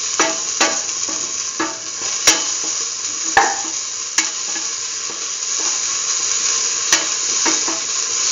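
Grated coconut fries in a pan for a curried green tomato coconut dip, a steady close sizzle broken by sharp scrapes and clacks of a spoon stirring against the pan.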